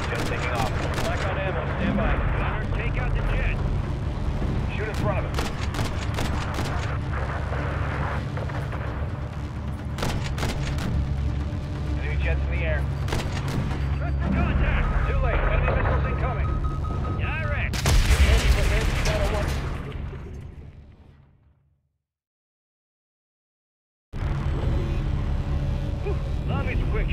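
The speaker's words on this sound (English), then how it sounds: "Take out the jet. Shoot in front of him." Gunfire in the Modern Warfare 3 campaign aimed at an enemy jet: dense, loud bursts of shots and booming blasts over layered game noise, running continuously until a sudden drop to silence, then resuming.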